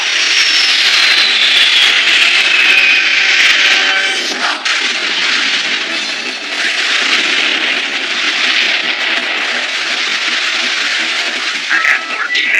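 Animated aircraft lifting off with a loud, sustained engine roar and a rising whine that holds steady, then shifts slightly in tone near the end.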